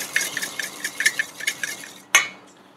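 Mayonnaise ingredients with pepper and salt are whisked in a bowl, a quick run of light rhythmic clinks and scrapes against the bowl, then one sharper knock after a short pause, close and alone without speech.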